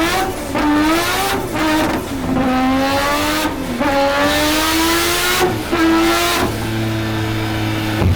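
A Volvo with a three-rotor rotary engine making about 740 horsepower drives and accelerates hard, its loud buzzing note climbing through repeated gear changes with short breaks, then dropping to a lower idle-like drone at the end.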